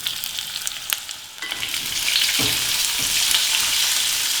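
Cashews, garlic, ginger, green chilli and onion fry in hot oil, a loud, close, continuous sizzle that grows fuller after a few soft clicks and stirring scrapes.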